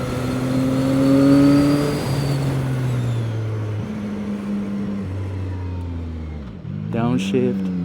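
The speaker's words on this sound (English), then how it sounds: "Downshift." A CFMOTO 675SR-R motorcycle on a twisty road steps down through gears. The engine note drops in stages with blips between shifts, loud and steady under strong wind rush. A rider's voice is heard briefly near the end.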